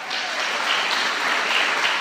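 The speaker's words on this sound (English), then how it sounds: "Give him another applause," Dense, sustained applause from a crowd at the ALA Stonewall Award speech, an even wash of many hands clapping at once, with no talking.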